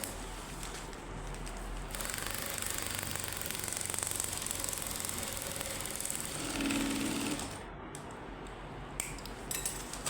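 Electric sewing machine stitching plastic sheeting for a water bottle cover, a steady mechanical whir and rapid needle clatter running continuously for several seconds before easing and stopping, then brief clicks.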